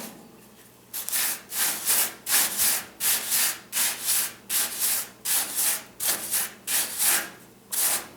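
Brush scrubbing rust on a truck cab, close rhythmic back-and-forth strokes, about a dozen harsh scratching bursts in a steady beat.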